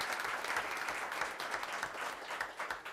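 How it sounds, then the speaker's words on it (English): Audience applause at an Arizona House hearing, continuous clapping for about three seconds at moderate volume with no talk over it. "let's give her a round of applause"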